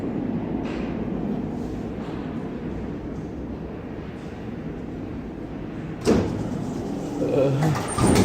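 An NYC subway train running on rough track, a steady broadband rumble and rattle from inside the car with a clunk near the end, likely a door or joint.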